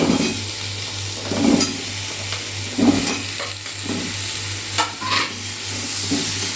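Pumpkin pieces stir-fried in a pan with salt and cumin powder for a Bengali prawn and pumpkin curry, a continuous sizzle broken by periodic scraping sweeps of the spatula, close and moderately loud, with a low steady hum underneath and no voices.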